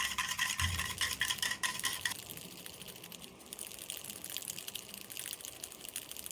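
Dalgona whipped coffee being whisked by hand in a bowl, a steady, fast scraping and swishing that runs throughout, busier at first and then settling into a softer, even rhythm, with no talking.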